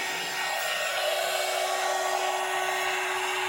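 A crafting heat gun blows hot air, used to dry wet ink, as a steady, loud whooshing roar that runs unbroken from start to finish with no talking.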